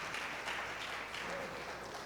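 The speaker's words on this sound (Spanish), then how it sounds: "Demos un aplauso al Señor" A church congregation applauds during a sermon, a soft, distant patter of clapping heard faintly across the room with steady texture and no clear speech.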